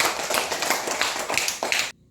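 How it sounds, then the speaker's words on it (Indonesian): Students in a classroom clap their hands together for about two seconds in a dense, moderately loud burst of many overlapping claps that stops abruptly. "Tepuk tangan."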